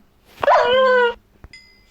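Minecraft dog in a video game, letting out one drawn-out whining yelp close and loud, followed by a faint click.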